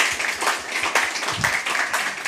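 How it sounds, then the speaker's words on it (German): A workshop audience at a closing event claps, with distinct individual claps standing out in an uneven, fairly close rhythm over a thinner spread of applause. "das ist euer Applaus"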